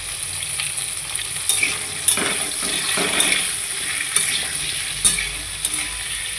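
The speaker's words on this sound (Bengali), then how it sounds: "আলু পটল লাল লাল করে ভাজা হয়ে গেছে" Potatoes and pointed gourd fry in hot oil with a steady, close sizzle and bubbling, broken by occasional stirring scrapes and clinks, with no talk.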